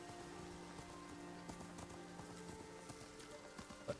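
Galloping horse hooves clip-clop in a steady rhythm during a long ride in the video game Ghost of Tsushima, with a soft ambient bed and a light rain-like patter underneath.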